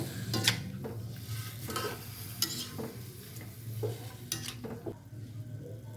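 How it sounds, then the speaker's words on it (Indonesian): Chicken being stirred with spice paste in a pan, with repeated scraping and clinking strokes over a soft continuous sizzle, close up and with no one talking. "Kita aduk merata sampai bumbunya rata ya ke ayamnya"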